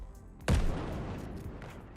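A grenade thrown by a character in a game under development explodes as one sudden booming blast with a rumbling tail that fades slowly, heard alone and moderately loud.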